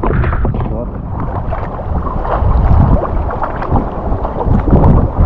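Wind gusts across Plöner See during a boat tour, heavy low buffeting rumbles on the microphone rising and falling in waves, with talk underneath.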